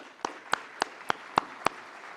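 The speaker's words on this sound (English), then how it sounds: "One more round of applause for Mario Matoto" Six evenly spaced single claps, crisp and fairly faint at a university security conference, ringing out in a steady rhythm over a quiet room background.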